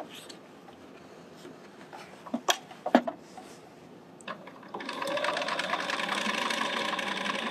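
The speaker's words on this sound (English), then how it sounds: "now we're sewing sideways up the tube on the free arm" A sewing machine stitches a patch onto jeans on the free arm, starting with a few sharp clicks and knocks before a steady rapid whirring begins and runs to the end, close and moderately loud.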